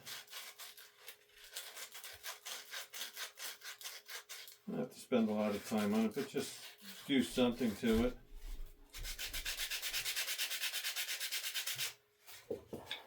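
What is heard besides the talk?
sanding wooden edges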